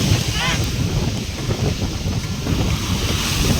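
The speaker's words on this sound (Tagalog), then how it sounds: "Lakas po ng alon." Strong sea waves surging against a shore where houses stand, a continuous loud roar of surf and wind buffeting the microphone throughout, with no pauses.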